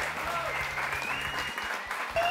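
A gospel singing competition audience applauds a band, with dense, loud clapping throughout and faint tonal music or voices weaving underneath.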